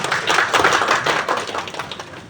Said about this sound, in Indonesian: Tepuk tangan Ibu Niluh.